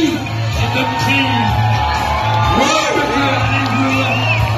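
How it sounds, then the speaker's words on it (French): A lively crowd whoops, shouts and cheers loudly for a champion, with voices rising and bellowing over steady noise and a low hum throughout. "Allez, on l'applaudit."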